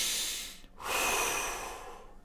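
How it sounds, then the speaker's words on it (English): A cleansing breath from a phase 1 breathing technique; a long, close inhale followed by a brief pause and a slow, airy exhale. "use the cleansing breath, the phase 1 breath"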